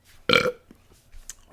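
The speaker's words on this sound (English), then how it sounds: "Hold on, burps." A single loud, close burp bursts out and fades within half a second, followed by soft rustling and quiet breathing.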